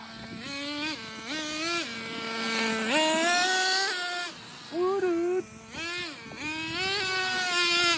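Traxxas Nitro 4-tec RC car with a nitro engine, a high-pitched buzzing whine that rises through revs and drops at each gear shift, repeated several times, loud and fairly close.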